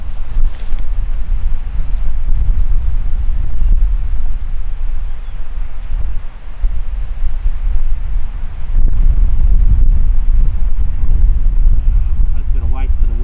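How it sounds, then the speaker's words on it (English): Strong wind blowing outdoors during rifle setup in Southland, New Zealand, a steady heavy low roar buffeting the microphone throughout, with brief quieter dips. "There's a lot of wind out there"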